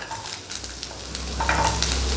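Small onions, sliced lengthwise, go into hot oil with tempering spices in a Tamil home kitchen, giving a steady close sizzle and frying hiss that swells slightly toward the end.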